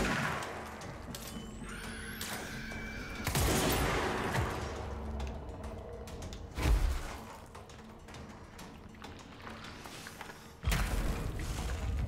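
Weapon fire in the Control video game, with three heavy, separate bursts of gunfire and impacts spaced several seconds apart against quieter background rumble.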